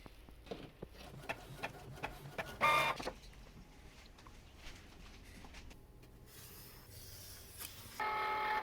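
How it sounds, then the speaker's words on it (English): An inkjet-style printer prints a pop-up paper design, faint mechanical ticks, shuffles and short whirring bursts of the print head, with a louder motor buzz near the start and end. "I'm going to print it and show you what it looks like"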